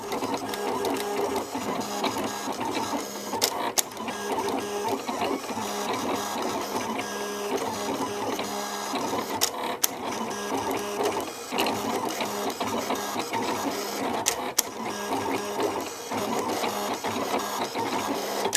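A Silhouette cutting machine slices scrapbook title pieces, giving a continuous close mechanical whir with shifting motor tones and occasional sharp clicks as the carriage moves.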